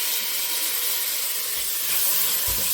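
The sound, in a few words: tomato added to hot oil, sizzling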